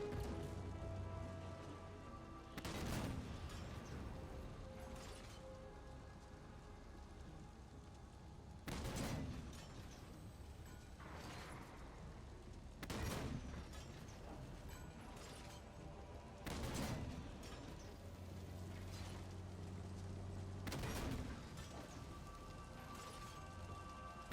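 Gunfire during a fight against a Phaeton in Halo 5 comes as a few heavy booming shots several seconds apart over a constant rumbling, rain-like hiss of battle ambience.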